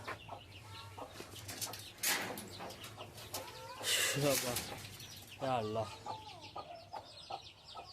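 Guinea fowl cluck and squawk in short, irregular bursts, fairly close, while people talk intermittently nearby.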